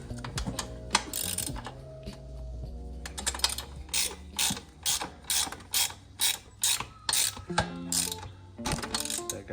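A ratchet tightening a bolt during a tire change on an MX350 motorcycle, fast close clicking in short bursts followed by a steady run of evenly spaced ratcheting pulls.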